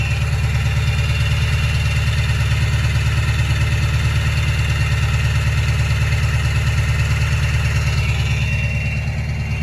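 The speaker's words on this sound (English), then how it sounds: "I'll put it on the high idle just so you guys can hear it if you want." A 1997 Ford F-350 with a 7.3 diesel runs at high idle around 1100 RPM, a steady loud rumbling clatter that holds even throughout and close up, with no talking.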